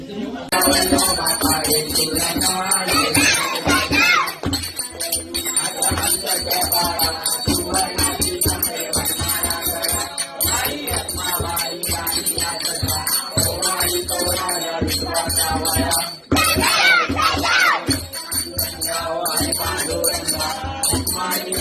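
A hand bell rings through a home Ganpati aarti, with quick repeated bright strikes layered into a loud mix of music and singing voices that carries on for a long stretch.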